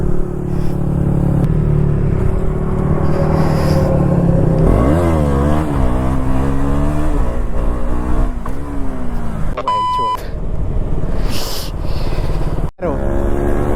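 A KTM Duke 200 motorcycle engine revs for a wheelie, loud and close, with repeated rising and falling throttle sweeps over a constant rumble.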